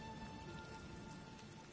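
Steady rain falls in The Elder Scrolls Online, a soft continuous patter of drops in a town setting, with a faint constant tone running underneath and no voices.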